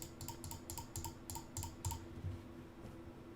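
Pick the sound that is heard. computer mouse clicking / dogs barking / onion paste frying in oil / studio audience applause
computer mouse clicking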